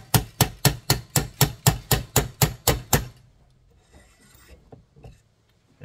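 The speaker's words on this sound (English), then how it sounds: "Get the old hammer. Just give her a very easy tap," About a dozen light, evenly spaced hammer taps on a metal throttle shaft bushing ring out in quick rhythm, then stop, leaving faint handling noises.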